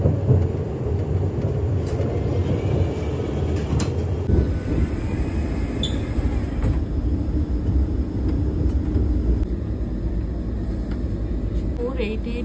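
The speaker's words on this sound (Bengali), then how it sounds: "এবার আমাদের জলন্ধর স্টেশনের কাছে ট্রেনটা আসছে" A Vande Bharat Express train, 22488 from Amritsar to New Delhi, rumbles steadily as it approaches Jalandhar station, with a continuous loud low drone heard from on board.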